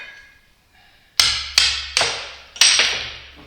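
Four sharp metallic hammer knocks, spaced roughly half a second apart, driving a seal out of a Vickers V45 vane cartridge pump housing; loud, close and ringing, with no talk.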